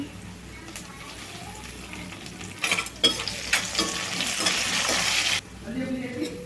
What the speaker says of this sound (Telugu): ఉల్లిపాయలు ఇట్లా వేగేటప్పుడే కొంచెం సాల్ట్ వేసుకోండి చాలా ఫాస్ట్గా అయితే వేగుతాయండి